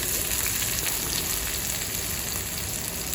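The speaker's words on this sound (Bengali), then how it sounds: "তেলটা গরম হয়ে গেলে আমি এতে পেঁয়াজ দিব বেশি করে।" Onions frying in hot oil in a wok give a dense, steady sizzle that stays close and loud throughout the short stretch, with no voices over it.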